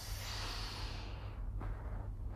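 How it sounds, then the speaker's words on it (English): Slow breathing through the nose during a calm wellness exercise, a soft steady airy hiss of inhaling and exhaling, close and quiet with no speech. "stay calm and breathing through your nose"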